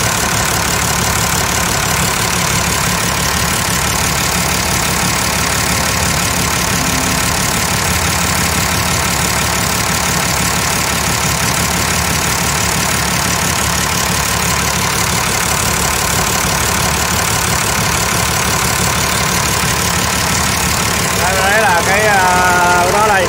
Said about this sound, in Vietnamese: Động cơ của nó đây.